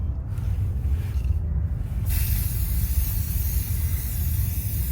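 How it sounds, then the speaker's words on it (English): Spray paint hisses steadily onto a plastic bottle being decorated as a bird feeder, a continuous close, fairly loud spray that brightens after about two seconds and carries on to the end. "Carefully spray paint your bottle."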